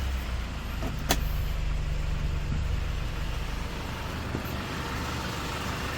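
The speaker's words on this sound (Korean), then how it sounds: "엔진 소리 조용합니다" A 2015 Hyundai Porter 2 double-cab truck with an automatic transmission and a Euro 5 engine idles quietly with a low, steady hum, plus a couple of brief clicks near the start.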